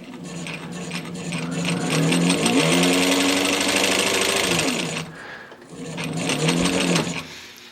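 A sewing machine, a free secondhand one with a slight wobble, runs steadily in two bursts with a rapid mechanical whir and clatter, pausing briefly between them.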